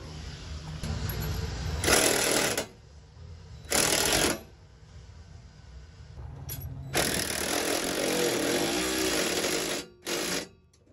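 A power tool with a 9/16 deep socket tightens the bolts of a generator skid plate on a Ram Promaster Winnebago Solis. It gives several loud buzzing bursts: two short ones, a long run, then a brief final burst, with quiet gaps between and no talk.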